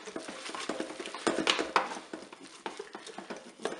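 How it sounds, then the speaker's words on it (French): A utensil stirs cooked spaghetti forestière inside a Cookeo pot, giving close, irregular scrapes, clinks and soft wet patters against the metal bowl. "Allez, on va mélanger tout ça."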